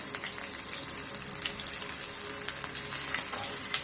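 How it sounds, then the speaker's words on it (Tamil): Vadagam frying in hot oil until it turns brown, a steady close crackling sizzle with small pops throughout and no talk. "நல்லா வடகம் வந்து இந்த மாதிரி ப்ரௌன் கலருக்கு வந்தால் தான் ஸ்மெல்லு நல்லா வரும்."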